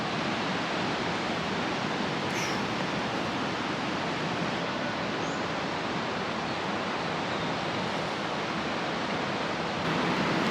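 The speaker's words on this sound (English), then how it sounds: "Incredible noise from that water." A river rushes below the David Livingstone Memorial Bridge in Scotland, a loud, steady roar of churning water that holds unbroken for ten seconds with no voices.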